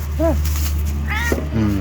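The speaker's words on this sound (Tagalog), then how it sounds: "Yan ang aming pusa guys." A cat meows a few times in short, rising calls, close by, with a low steady hum underneath.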